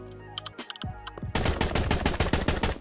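A Destructible Rifle firing at a raptor in a video game combat test, a few scattered clicks and thuds followed by a loud, rapid run of gunshots in quick succession.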